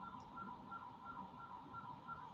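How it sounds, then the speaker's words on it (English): A car alarm sounding outdoors, with a regular repeating electronic wail cycling several times, fairly faint and distant, with no talk over it. "How convenient a car alarm is just going off right now."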